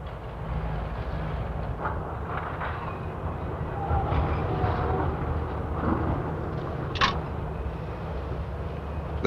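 Passenger train 406 stands idling in a rail yard under blue-flag inspection, a steady low rumble and hiss with faint clanks and a brief sharp metallic squeal near the end.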